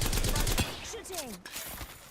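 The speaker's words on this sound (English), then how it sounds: "They're shooting at me." Video game gunfire: a dense burst of rapid shots fills the opening moment, followed by a few whistling, sliding tones and scattered quieter pops.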